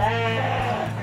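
Sheep on a farm giving a single drawn-out, wavering bleat, loud and close, with a faint murmur of voices nearby.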